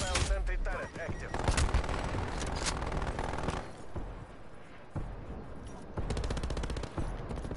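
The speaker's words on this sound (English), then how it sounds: "Hostile sentry turret active." A hostile sentry turret in a video game fires rapid bursts of gunfire with short pauses between them, loud and close, and brief speech mixed in.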